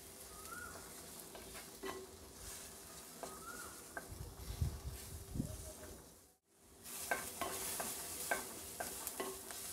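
Tomato pieces go into a pan of softening onions for a spinach sambar, giving a low, steady sizzle and fry with occasional stirring scrapes and clinks throughout, fairly quiet, with no one talking.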